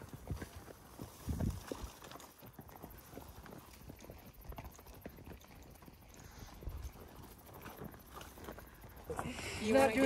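Hooves of a horse clip-clopping at a walk on a hilltop trail, a steady uneven patter under nearby people chatting, with a louder rustle near the end.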